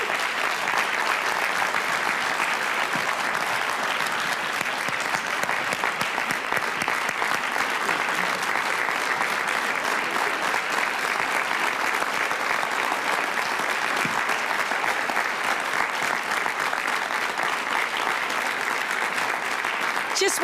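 A large convocation audience gives a sustained, dense round of applause for a university award winner, steady and even throughout with no pause.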